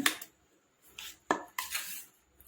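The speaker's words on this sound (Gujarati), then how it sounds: "હવે મિક્સ કરી લઈશું આપણે" A spoon clinks and scrapes against a bowl while spiced mashed potato filling for mini aloo paratha is mixed, in a few short bursts separated by brief pauses.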